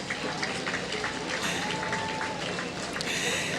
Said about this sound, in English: Ladies and gentlemen, a round of applause for all our awardees today.